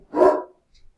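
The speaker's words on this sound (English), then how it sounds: "Ignore the dogs." A dog gives a single short, loud bark close by, followed by a faint trailing yip, with nothing else around it.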